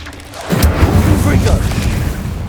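The Incendio fire spell is cast in the Hogwarts Legacy video game, a sudden whooshing burst that swells into a rumbling roar and then fades slowly, with a voice over it.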